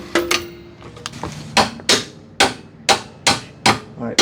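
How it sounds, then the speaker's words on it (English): A hammer strikes a car's lower control arm in sharp, loud, evenly spaced metallic blows, about eight or nine in quick succession, close by with no talking. "we gotta get the hammer and we gotta start knocking that one out"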